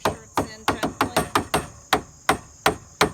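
A hammer taps a deck tube railing into place in about a dozen sharp, close strikes at an uneven rhythm, with no talking.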